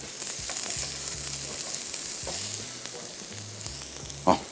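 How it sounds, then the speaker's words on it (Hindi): Onion, ginger and garlic frying in a pan in a TV studio kitchen, a constant bright hiss of sizzling oil with a soft low hum beneath and a brief clink near the end. "इसको थोड़ा सा करते हैं फ्राई।"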